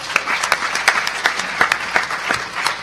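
A sparse conference audience at HOPE X gives a short round of applause: distinct, separate claps at a loose, fairly regular pace rather than a dense roar, moderately close.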